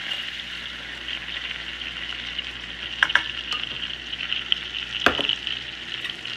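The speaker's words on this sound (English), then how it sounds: "Just going to whisk this until well combined." Flour being whisked into melted butter in a pan for a roux, a steady soft sizzle with light scraping strokes throughout and a few sharper clicks of the whisk against the pan.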